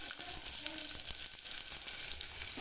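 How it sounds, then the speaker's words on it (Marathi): Onions fry in a pan until browned, a faint, steady hiss of sizzling oil with little variation, heard alone. "कांदा लाल होऊ द्यायचा."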